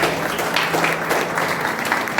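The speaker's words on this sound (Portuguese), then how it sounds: "dê uma salva de palmas para" Applause from a church congregation during a worship service, a dense steady wash of many hands clapping with a faint sustained organ or keyboard tone underneath.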